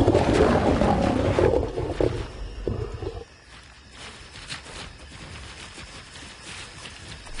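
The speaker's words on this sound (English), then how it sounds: "Afterward, the 2 roar in chorus. The other male responds, and his roars will not go unanswered." Two male lions roar together in chorus, a deep loud rumbling that fills the first three seconds, then fades into quieter, more distant grunts and rustling.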